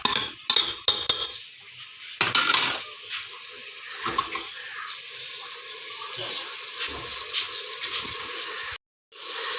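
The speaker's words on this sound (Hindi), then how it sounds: "अब इसकी अच्छी तरह इसे मिक्स करेंगे और इसकी अच्छी तरह बुनाई करेंगे।" Keema and kachnar are stirred and mixed in a cooking pot with a metal spoon, giving repeated scraping, clattering strokes and soft wet churning, close and fairly loud, broken by short pauses.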